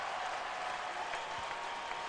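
A packed basketball arena crowd roars and applauds steadily for Kobe Bryant's career-high scoring night, a dense, continuous wall of clapping and cheering with no break.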